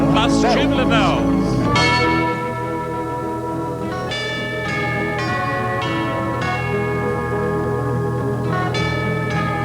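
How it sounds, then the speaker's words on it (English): Tubular bells struck at a 1985 telethon in the Auckland Town Hall, loud ringing metallic strikes with long sustained harmonic decay, several notes in succession over a backing band. "Plus tubular bells."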